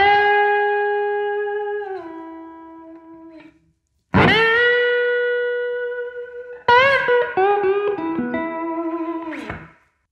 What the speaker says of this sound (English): we're utilizing open E tuning for this slide guitar solo.